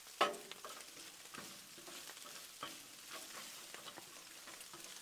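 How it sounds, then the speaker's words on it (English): Cheese tortellini frying in sausage grease on a flat griddle top, a steady close sizzle with a sharp burst at the start and scattered pops and crackles throughout, no voices. "we're going to cook that tortellini in that sausage grease"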